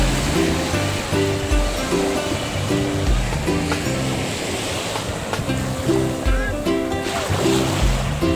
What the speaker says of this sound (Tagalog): sarap masdan ng tubig na lumalagaslas dito sa Dalampasigan.